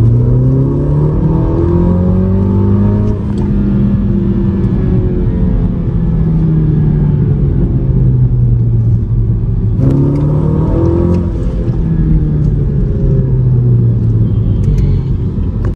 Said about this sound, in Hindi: भाई मजा आ गया ऑडी में चढ़ के